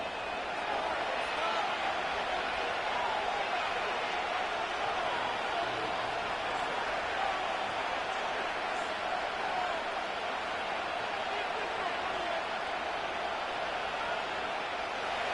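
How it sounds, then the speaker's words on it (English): A football stadium crowd at a Green Bay game roars steadily and loudly before third and goal, a dense unbroken wash of cheering with a commentator's voice mixed in. "This crowd doing everything they can before 3rd and goal."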